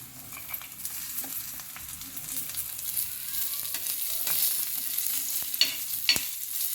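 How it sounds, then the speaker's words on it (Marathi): Coriander seeds fry in a little oil with garlic and ginger, a soft steady sizzle with light spatula scrapes and a few sharper clicks toward the end, fairly quiet and close. "धने देखील आपण छान असे लालसर तळून घेणार आहोत. आपल्याला हा मसाला कमी तेलावरच तळून घ्यायचा आहे."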